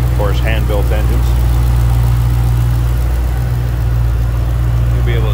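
A 2007 Ford Mustang Shelby GT500 convertible with a hand-built engine and a Ford Racing cold air intake idles smoothly with a loud, steady low rumble, while people talk briefly over it.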